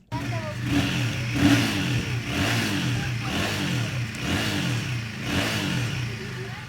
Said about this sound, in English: these kids asked me to rev the motorcycle